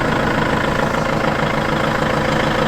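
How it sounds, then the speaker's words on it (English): A tractor engine idling as it warms up, a steady low rumbling drone that stays even and continuous throughout, with no voices. "Gotta let the tractor charge, warm up a little bit."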